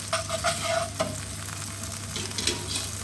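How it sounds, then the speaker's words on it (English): Pasta warms gently in a pan with garlic and olive oil, a soft continuous sizzle with light stirring clinks near the start, close and alone without talk. "I'm just going to let that warm up gently in among the garlic and a little piece of olive oil"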